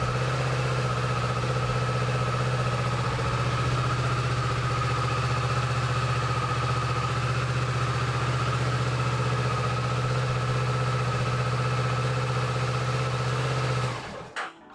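A Kawasaki Vulcan motorcycle engine idles close by with a steady, even drone that holds for about fourteen seconds before cutting off abruptly, with no talk over it.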